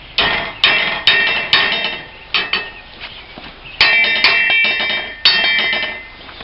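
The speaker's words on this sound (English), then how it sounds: "what I'm going to do is tap on it here and pull it out" Hammer blows on a metal roller held in a vise, knocking out a bearing race while servicing an old Owatonna swather: about ten sharp metallic clanks in irregular bursts, loud and close, with no talk.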